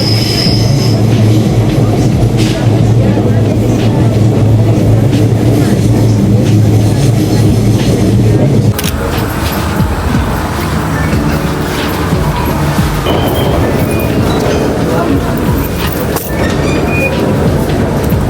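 A train rolls along the rails with loud, steady rumbling and shrill wheel squeal, and the noise shifts partway through, as from a changing track or car section.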